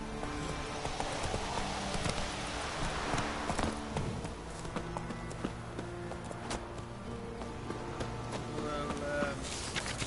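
Geralt's horse Roach clops along in The Witcher, a steady run of hoofbeats with faint game music and ambience beneath, the rhythm continuing for the whole stretch.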